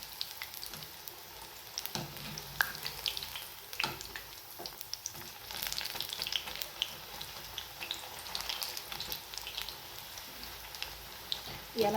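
Onion bhaji frying in hot oil, a soft, continuous crackle and sizzle with occasional stirring clinks, fairly faint and close, with someone speaking over it at times.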